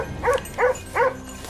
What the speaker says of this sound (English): The chaotic barking of hunting dogs echoed across the empty field